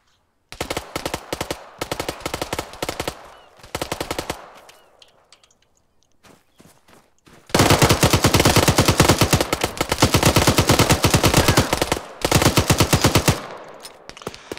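Sustained automatic gunfire in a video game, loud bursts of rapid shots with a short lull, then a long continuous stream of fire that cuts off near the end.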